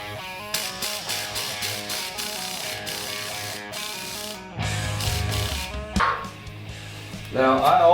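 A ratchet tightens leaf spring bolts on a Jeep YJ, sounding as a rapid series of close metallic clicks in bursts, broken by a low rumble and a few sharper knocks.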